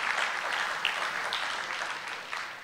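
Audience applause at a hip hop talk at the Institut du monde arabe, a steady wash of clapping heard briefly on its own.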